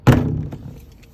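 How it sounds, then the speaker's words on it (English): A caravan's main door on a 2021 Buccaneer Barracuda is pushed free of its door retainer, giving one sharp close thunk followed by a softer knock as it settles. "to release, you push this flap forward to release the door"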